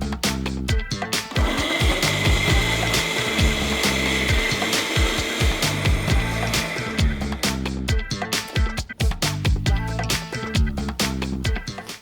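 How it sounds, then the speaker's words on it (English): Kitchen blender whirring loudly and continuously as it blends coconut cream with a little sugar, water or lemon juice, the motor churning with rhythmic grinding pulses throughout. "Now we're just going to blend this."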